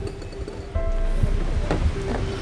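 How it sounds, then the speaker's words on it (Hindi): Steady rain falls outdoors, a broad continuous wash with a few louder splashes, close and fairly loud, with no speech. "बारिश हो रही है"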